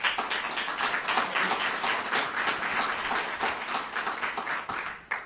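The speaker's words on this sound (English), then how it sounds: "Let's give them a round of applause" An audience at an awards ceremony applauds, a dense and sustained round of clapping from many hands that fills the room evenly and then tapers slightly at the end.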